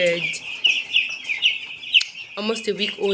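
Week-old chicks in a poultry brooding room give a dense, continuous high chorus of peeping, with some nearby talk or lower voices coming in toward the end.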